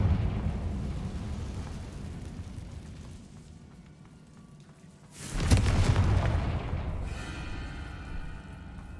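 A Confringo fire spell bursts in a Hogwarts Legacy cave, a sudden loud blast that swells into a rumbling roar and lingers over a low ambient drone.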